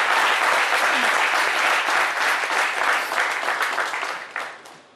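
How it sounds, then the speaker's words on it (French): Steady, dense applause from an audience at a ceremony, loud and sustained for several seconds before thinning out toward the end. "On va l'encourager avec les applaudissements"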